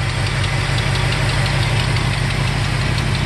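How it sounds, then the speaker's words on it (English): A 1969 Ford F250 Custom Cab Camper Special with a 390 V8 idles steadily up close, a constant low rumble with a faint rhythmic tick and no breaks or talk. "There's the engine running."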